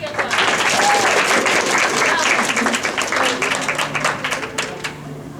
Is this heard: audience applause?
yes